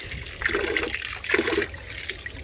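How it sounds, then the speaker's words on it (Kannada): Water is poured into a homemade liquid fertilizer made from kitchen waste such as onion peels, giving two short gurgling, splashing pours close by. "ಈ ಫರ್ಟಿಲೈಸರ್ಗೆ ನಾನು ಲಿಕ್ವಿಡ್ಗೆ ನೀರನ್ನ ಆ್ಯಡ್ ಮಾಡ್ಕೊಳ್ತೇನೆ"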